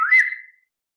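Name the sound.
person whistling, imitating a stage direction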